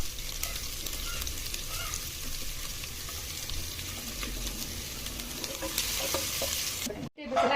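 Ginger and garlic frying in oil for a vegetable soup, a steady close sizzle with stirring scrapes throughout, ending in a brief pause before the sizzle resumes.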